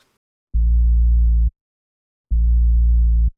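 Deep, subby synth bass filling the low end of a rap-rock track, two smooth sustained low notes about a second each separated by silence, alone.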